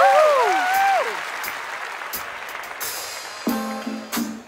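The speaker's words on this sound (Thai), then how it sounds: "ปรบมือและกรี๊ดให้กับบิลลี" Applause and cheering from a studio audience on a television singing show, with a dense clapping wash that trails off and gives way to a musical backing track over the last second.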